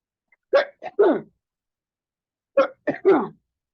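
Two quick bursts of sneezing and coughing, each a cluster of three sharp explosive sounds, close and loud, separated by a pause of quiet.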